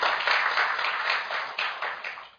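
Audience applause at a parliamentary lecture on the Fukushima nuclear accident, crisp, close clapping from a modest crowd in a room, with slight surges before it tapers off.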